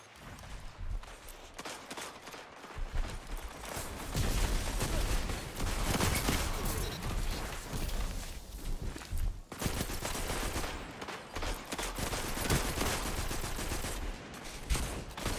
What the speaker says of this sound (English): Man, this auto rifle feels great.